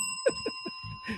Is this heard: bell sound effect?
yes